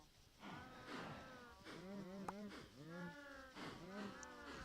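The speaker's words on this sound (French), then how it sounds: "Donc on met des vaches." Minecraft cows moo several times in a row, drawn-out lowing calls that overlap one another at moderate loudness against a faint background.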